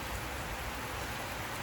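Steady rain falls in a park in Indonesia, a faint, even hiss of drops on the ground and leaves with no other sounds.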